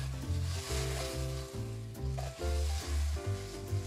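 Duck breast laid skin side down in a hot frying pan sizzles steadily, a bright crackling hiss of rendering fat over low rhythmic thumps, close and fairly loud, with no talking.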